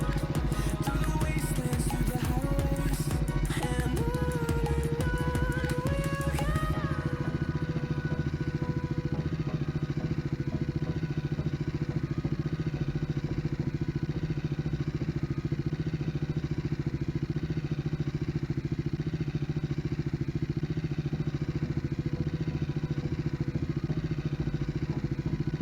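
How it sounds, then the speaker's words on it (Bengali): A motorbike carrying two riders labours along a rough mountain off-road track between Dharchula and Nabi Dhang, its engine a constant loud drone with rattling and clatter over the opening seconds, and no talk. "সাবধানে বাইকটাকে চালাই।"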